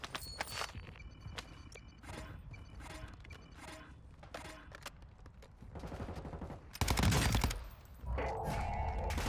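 Rapid gunfire in Warzone (Modern Warfare 2), sharp repeated shots in bursts with mechanical clicks and footsteps between them, ending in a heavy loud volley.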